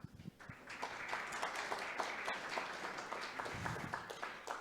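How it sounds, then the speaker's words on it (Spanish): Audience applause at a seminar on legal responsibility for online content: steady, dense clapping from a modest crowd, moderately loud and continuous, with no talking over it. "Un aplauso."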